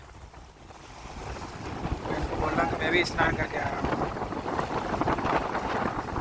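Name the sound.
strong wind blowing at a riverbank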